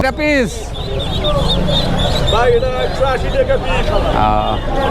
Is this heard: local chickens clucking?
yes